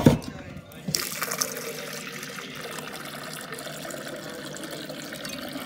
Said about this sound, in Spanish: Le voy a echar poquita agua.